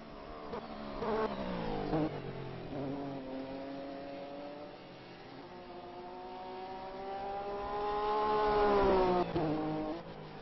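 Porsche 911 GT3 R race cars accelerate on a circuit during a GT-Masters race, engines rising and falling in pitch through gearchanges, loud and close, with a second car swelling near the end.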